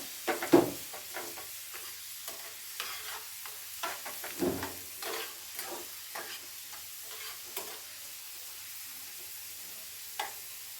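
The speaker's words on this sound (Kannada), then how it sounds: "ಬೆಳ್ಳುಳ್ಳಿನ ಎಣ್ಣೆಲೆ ಚೆನ್ನಾಗಿ ಫ್ರೈ ಮಾಡ್ಕೋಬೇಕು" Garlic fries in oil in a pan while being stirred, giving a soft continuous sizzle broken by close, irregular scraping strokes and small clicks of the spoon.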